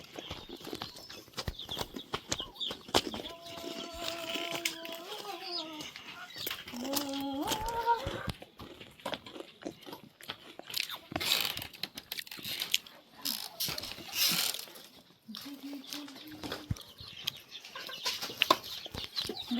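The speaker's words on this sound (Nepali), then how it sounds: "चल्ला कत्रो भयो देखाउँछु आउनुहोस्।" Chickens and small chicks in a poultry coop, being given turmeric water, cluck and peep in short bursts amid scuffling and rustling. The calls come in a few clusters and are moderately close.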